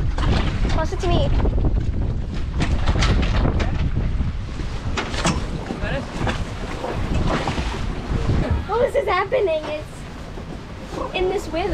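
Strong wind gusts buffet the microphone over rough sea noise aboard a sailing yacht in rainy, bumpy weather, with people talking intermittently throughout.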